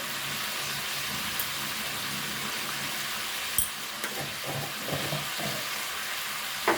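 Ridge gourd sautéing over a medium gas flame gives off a steady, close sizzle and frying hiss, with a few soft stirring clicks and scrapes near the end.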